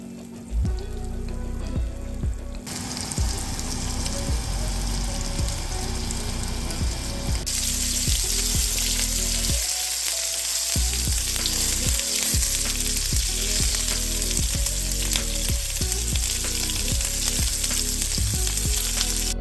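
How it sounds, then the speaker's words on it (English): Meat shallow-fries in beef tallow in a cast iron skillet, a loud, continuous crackling sizzle heard close up that grows brighter and more intense partway through, with no speech. "I'm going to shallow fry these in a cast iron skillet with a little bit of beef tallow"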